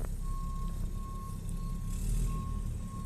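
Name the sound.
garbage truck reversing beeps and engine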